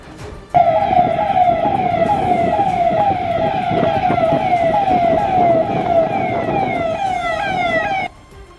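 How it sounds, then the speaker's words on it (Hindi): Sirens wail from a police convoy moving through the streets and markets of Tarana near Ujjain, a loud, continuous rising-and-falling tone with vehicle noise beneath, starting abruptly and cutting off near the end. "सायरन बजाती हुई पुलिस के काफिले की गाड़ियां तराना इलाके की गलियों और बाजारों से जाती दिखी"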